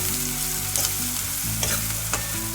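Ragi vermicelli frying and being stirred in a pan, a steady sizzle with brief scraping strokes of the spoon standing out, close and alone with no talking.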